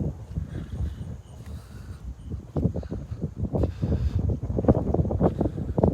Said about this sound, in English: I know it's the wind's blowing pretty hard.